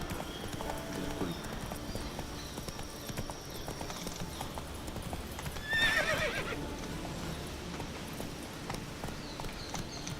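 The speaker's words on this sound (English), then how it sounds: "इसके हॉर्स के मूवमेंट्स इतने गंदे हैं ना." Horse in the video game Witcher 3 trotting with steady clip-clop hoofbeats, then letting out a loud neigh partway through, with a game soundscape behind it and a brief spoken word.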